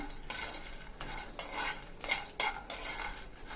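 Peanuts, roasted gram and sesame seeds are stirred as they lightly fry in a pan for kajjikayalu filling, with a spoon scraping and clinking against the metal in uneven strokes over a faint sizzle.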